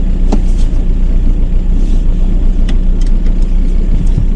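A car driving on wet roads after its clutch has been deglazed, with a loud steady engine and road rumble held throughout and a few faint clicks on top.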